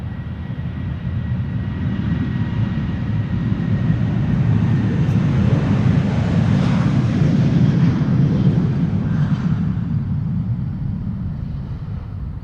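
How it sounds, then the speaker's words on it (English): A KLM Boeing 737-700 jet departing Amsterdam Schiphol for Billund gives a loud, steady, broadband engine roar that holds evenly throughout and swells slightly in the middle, with no voices. "KLM 737-700 to Billund"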